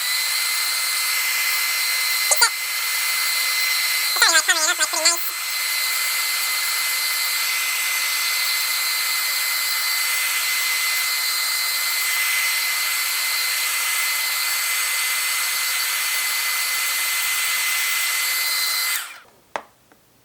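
A hair dryer drying freshly repainted thrift store fishing lures blows as a loud, steady whir close by for about nineteen seconds, with a brief pitch change near the start, then cuts off abruptly.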